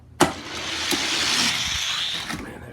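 Modified 60 g die-cast toy cars, including a Lamborghini Urus and a Cut Rocker, run down a gravity race track in a tournament heat: a sharp clack at the start, a steady rolling rush, then a final knock at the finish.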